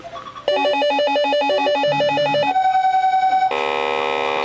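Arachnid English Mark darts arcade machine in test mode, playing rapid electronic beeping melodies, then a sustained tone and a bright buzzing chime, loud and close.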